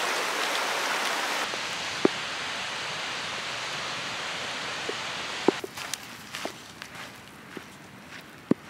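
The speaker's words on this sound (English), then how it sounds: "Rain's let up a little bit." Rain falls steadily on a mountain trail as a dense, even hiss that eases after a few seconds, leaving scattered sharp drips and taps close by.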